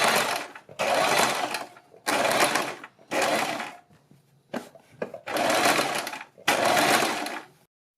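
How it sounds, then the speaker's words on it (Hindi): A sewing machine runs in several short, even bursts of rapid stitching with brief pauses between them, stitching fabric right along a buckram-lined neckline, fairly close and alone. "बुकरम के बिल्कुल बराबर में पूरे गले के ऊपर सिलाई लगाएंगे"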